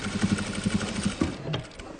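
Sewing machine stitching patchwork for a quilted wheat-pattern kurak blanket, a quick steady run of needle strokes that stops, then a brief clack and shuffle of fabric.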